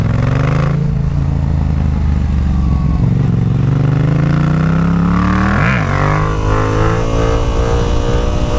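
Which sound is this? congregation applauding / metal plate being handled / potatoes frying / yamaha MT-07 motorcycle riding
yamaha MT-07 motorcycle riding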